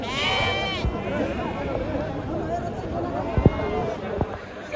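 Sheep bleat at a busy sheep market in Kerur, one loud nearby bleat at the start followed by fainter calls within a crowded din of voices and movement.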